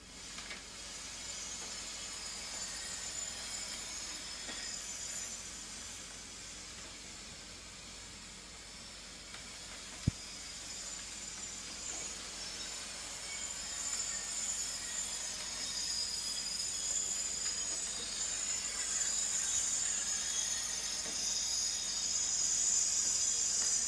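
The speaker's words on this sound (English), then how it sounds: "Let's see how the steamer handles it." A HomeRight SteamMachine Plus steam mop hisses continuously as it works over a stain on a hardwood floor, a soft, even steam rush with slight swells and one sharp click partway through.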